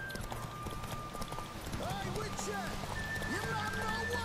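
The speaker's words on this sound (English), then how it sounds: "What are you doing, you fucking stupid horse?" Roach, a horse in The Witcher 3 video game, galloping with steady hoofbeats under game music and ambience, joined by a few short snorts or whinnies.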